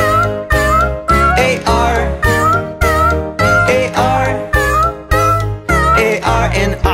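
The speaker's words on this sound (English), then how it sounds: "There was a farmer who had a cat, and Oscar was his name" A cat meows repeatedly in a nursery rhyme song, about a dozen tuneful meows in steady rhythm, loud and close, with no talking.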